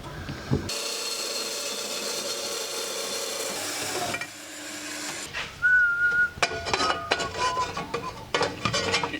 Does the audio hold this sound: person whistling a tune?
yes